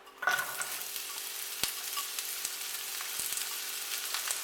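Onion dropped into hot olive oil in a pan gives a sudden sizzle that settles into a steady, moderate frying hiss, with a few soft utensil taps as the pieces are stirred.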